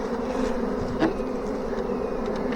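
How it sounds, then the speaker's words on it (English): A big honey bee swarm gathered on a trap box fans its wings in a dense, continuous drone, steady and fairly close, with no voices over it. "we got some serious fanning going on up there now"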